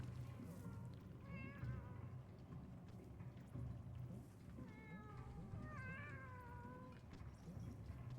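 Trapped cats in the pixel-art video game Animal Well meow several times, high wavering cries rising and falling over a soft rainy ambient bed, with short gaps between the calls.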